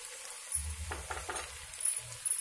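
Chicken fry with chili powder sizzles softly in a pan as it is stirred, with a few brief scrapes and light clinks of the spoon against the metal, close but fairly quiet.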